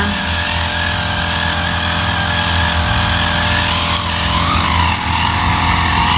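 A grass cutter's small engine runs steadily and loudly nearby as it works through thick grass around coconut trees, a continuous buzzing drone with no pauses.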